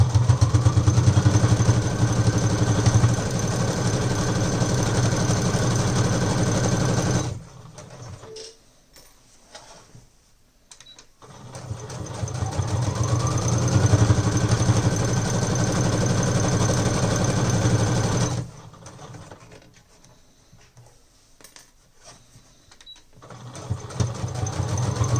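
A sewing machine stitches a seam on a fabric tote bag in two long, steady whirring runs, each broken by several seconds of near silence, loud and close with no voices.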